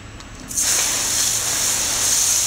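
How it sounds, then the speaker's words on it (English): Tap water rinsing a freshly cleaned, slimy fish, a sudden hissing gush of spray starting after a short quiet moment and running steadily, close and fairly loud, with no voices. "Now you want to rinse it really good"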